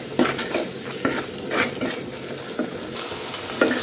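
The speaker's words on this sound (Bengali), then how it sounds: "এখানে আমি পেঁয়াজ ভেজে মশলাগুলো দিয়ে কষিয়ে নিচ্ছি" Onion and spices frying and being stirred in a pan, with a utensil scraping and clinking against the metal in repeated strokes over a steady close sizzle, no voices.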